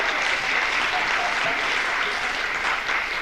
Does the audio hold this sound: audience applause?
yes